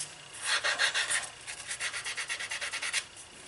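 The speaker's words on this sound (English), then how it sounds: "So we're going to sand it. Just wet and dry," Leather rubbed with 220 grit wet and dry sandpaper in a quick run of steady back-and-forth rasping strokes, close and even, with no voices.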